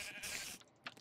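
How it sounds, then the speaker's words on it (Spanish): Sheep in Minecraft bleat in a short, nasal burst, followed by a brief second bleat, fairly faint and heard without talk. "¡Ay, aquí había putas ovejas!"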